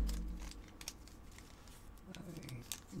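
Scissors snip at plastic packaging while a boxed collectible figure is unboxed, producing a few faint crisp cuts and crinkles heard close up in a quiet room.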